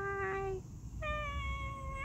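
A house cat meows twice, close and clear, the first call short and the second longer and drawn out, over a low background hum.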